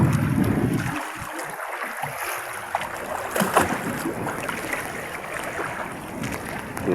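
A small boat being paddled on choppy sea with its engine not working, splashing water and sloshing waves under steady wind noise, close and continuous with irregular bursts, some faint voice in the background.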